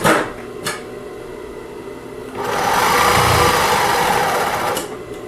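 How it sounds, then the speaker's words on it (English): A Singer 20U33 sewing machine stitches two pieces of canvas, a steady mechanical whir that starts after a couple of quiet clicks and runs evenly for a few seconds before easing off, close and alone. "I'm just sewing 2 pieces of canvas."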